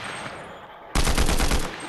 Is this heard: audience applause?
no